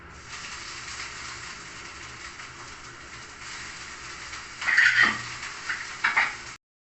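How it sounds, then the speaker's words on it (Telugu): Steady low sizzle of tempering spices frying in hot oil, with a couple of sharp clinks of utensils against the pan near the end. "పోపు వేయించేసుకుంటున్నాను"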